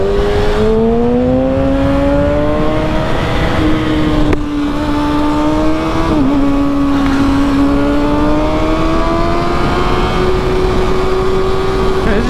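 A motorcycle engine rises and holds at high revs during a wheelie, a loud continuous droning whine that climbs in pitch and dips briefly, heard close with wind noise and faint talk underneath.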